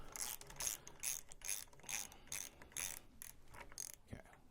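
A ratchet wrench works a bolt loose on a 2022 Indian Chief motorcycle during a turn signal install, giving a quick run of about ten crisp, close clicks in an even rhythm before it stops.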